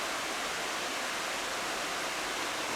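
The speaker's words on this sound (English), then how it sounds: "you get here at what is known as the Lace Waterfall" Lace Waterfall at the end of a woodland trail at Natural Bridge, Virginia, gives a steady, even rush of falling water that fills the whole moment, with no voices or other sounds over it.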